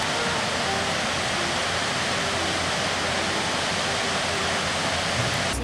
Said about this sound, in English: Now that's a waterfall there.